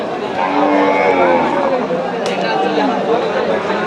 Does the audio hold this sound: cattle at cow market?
yes